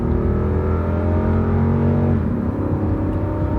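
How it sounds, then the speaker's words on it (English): A big Lexus SUV V8 engine roars loudly under hard acceleration, its deep drone climbing in pitch, then dropping briefly at a gear shift before pulling again. "It's one big heavy vehicle, but it gets up and goes."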